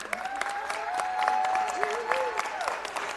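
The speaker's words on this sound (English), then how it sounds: "Give her a round of applause." Applause from an audience at a city council meeting, a sustained patter of hands with faint voices and a tonal whistle-like sound running over it at moderate volume.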